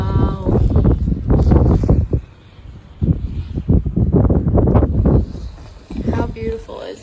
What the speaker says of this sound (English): It's very windy, but wow.